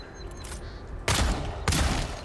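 Two guns fired together in a first-person video game, giving two loud, broadband blasts about half a second apart, each with a lingering tail over a low ambient background.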